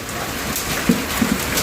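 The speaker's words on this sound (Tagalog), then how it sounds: "Tignan niyo, daming umuulan ng yelo dito sa Nepal." Heavy hail falling in Nepal, a dense continuous patter of ice striking surfaces nearby, with a few sharper louder knocks standing out.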